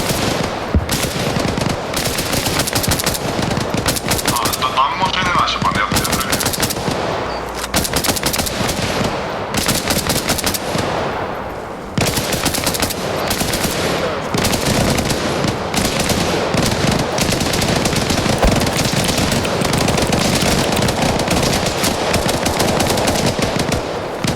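Rapid bursts of automatic gunfire in Arma Reforger rattle almost without pause, loud and dense, with occasional brief gaps between volleys.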